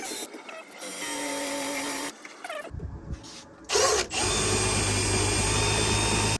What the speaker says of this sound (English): you will need one of these wheels that is meant to remove residue